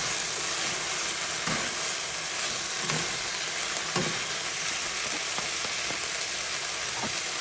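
Shrimp sizzling and frying in a pan while being stirred, with radish about to be added; a steady close hiss runs throughout, punctuated by soft scraping knocks of the stirring utensil every second or so.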